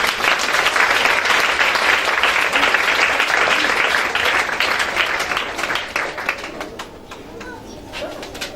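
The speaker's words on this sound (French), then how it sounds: "Acclamez le Seigneur" A church congregation at an evangelical chapel applauds loudly and steadily with dense clapping and some voices, then the applause thins out and fades toward the end.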